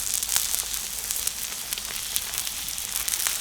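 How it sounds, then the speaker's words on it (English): American wagyu beef sears on a hot grill sear plate, a steady close sizzle with bright crackling pops running throughout, loud and continuous with no talking. "We wanted that hot fire with a sear plate, get that nice crust on there."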